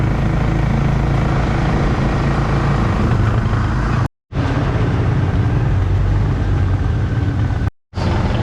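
Road traffic passes along a busy street, making a loud, continuous rumbling roar that stays close and steady for several seconds, broken by two brief dropouts.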